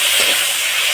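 Prawns frying in hot oil give a dense, steady, loud hissing sizzle that holds without a break for about a second, with no voices.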